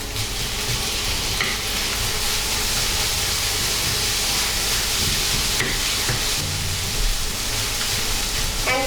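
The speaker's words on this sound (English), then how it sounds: "And keep frying until everything is well incorporated." Tuna and green onion fried rice stir-frying in a hot pan, a continuous loud sizzle with scraping and stirring clatter throughout.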